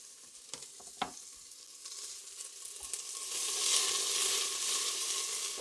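Onion browning in a pan for a rooster bone broth chicken soup: a few clinks early, then a soft sizzle that swells into a louder, fuller hiss near the end, with no talking.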